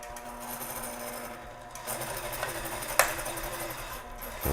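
A sewing machine stitches jeans denim in a steady, fast mechanical whir with a rapid needle rattle, close and moderately quiet, slowing briefly and ending with a sharp click.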